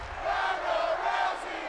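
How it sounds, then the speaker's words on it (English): Arena crowd in WWE 2K22 Universe Mode cheering for a SmackDown women's champion: a steady, fairly loud roar of many voices that holds for under two seconds with no one speaking over it. "what a crowd in my universe mode cheering for her"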